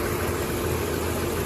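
A Toyota Brevis with a 2JZ-FSE D4 direct-injection engine past 100,000 km idles steadily, a continuous low hum with a mid-range drone, close and even, with no talking.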